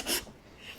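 A shoulder plane takes one brief, soft rasping pass across a wooden workpiece, peeling off thin wispy shavings; a short close scrape followed by quiet.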